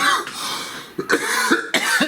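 A person coughs repeatedly in a small room, a run of throaty, rough coughs in quick bursts with brief pauses between them, close and fairly loud, with no speech.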